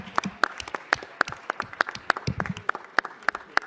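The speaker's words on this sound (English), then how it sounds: "a big round of applause" A round of applause in a Los Angeles City Council chamber, with sharp, fairly regular claps standing out over a softer spread of clapping from the room, with no talking.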